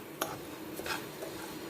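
Semolina roasting in ghee in a pan for rava payasam, stirred with a few light scrapes and taps of the utensil against the pan over a soft, steady background.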